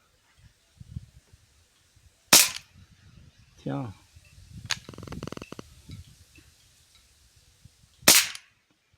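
An Umarex Tornado air rifle fires pellets in two sharp, loud cracks about six seconds apart, with a brief voice and faint handling noises in between.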